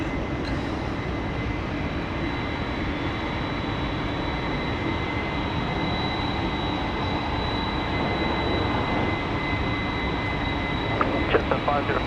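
Airliner taxiing toward Bay 10 at Sydney Airport, a loud, steady engine roar with a thin high whine, continuous and near throughout.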